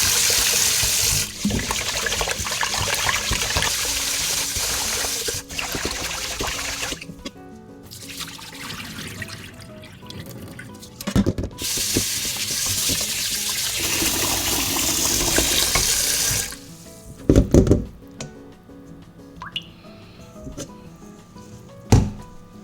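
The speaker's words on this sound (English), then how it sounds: "Rinse the rice in another bowl until the water runs clear." Rice is rinsed in a bowl under running tap water, with a steady rushing stream that drops and returns in stretches, plus sloshing, trickling and a few knocks near the end.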